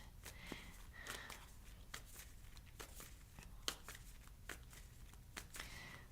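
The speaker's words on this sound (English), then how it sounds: "Shuffle, shuffle, shuffle." Tarot cards are shuffled by hand, giving a series of short, crisp riffling bursts at an uneven rhythm, close and quiet, with no talking.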